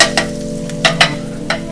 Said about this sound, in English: Butter is brown, going in with our onions and garlic.